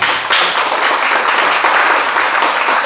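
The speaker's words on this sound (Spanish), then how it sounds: "Dale un aplauso al Señor." A church congregation bursts into loud, sustained clapping during a worship service, the applause dense and even with a few cheers mixed in.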